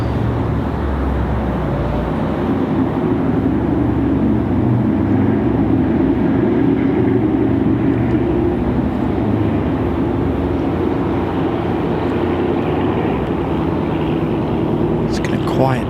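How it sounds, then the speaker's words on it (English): A United airliner rolls for takeoff at Raleigh-Durham International Airport on an evening, giving a continuous broad rumbling roar of jet engines heard from a distance, with people talking over it. "Looks like we've got another United ready to roll."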